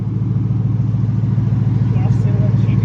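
A Shelby GT500 idles nearby with a steady, rumbling, rhythmic burble that holds even throughout.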